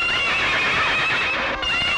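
A horse that has been given rum neighs loudly in a drawn-out, quavering whinny lasting about two seconds, close and without speech over it.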